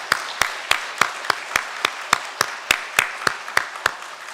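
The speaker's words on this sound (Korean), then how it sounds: "우리 따뜻한 박수로 환영을 하겠습니다" A church congregation claps in unison to welcome a newcomer during Sunday worship, sharp, evenly spaced claps about three per second in a steady rhythm, moderately loud with a faint room wash between beats.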